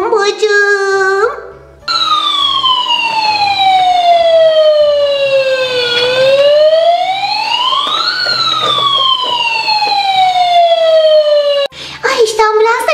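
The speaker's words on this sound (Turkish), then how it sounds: "Ay işte ambulans da geldi Peter." Cartoon ambulance siren from Masha and the Bear, a loud, continuous wailing tone that sweeps slowly down and back up, arriving and staying close, with brief cartoon voices just before and after.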